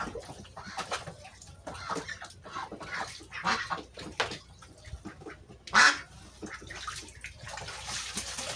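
Pet Peking ducks squabble up close, with loud overlapping quacks and honks in quick irregular bursts and a sharp squawk near the end.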